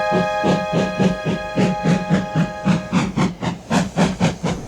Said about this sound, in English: And Thomas puffed away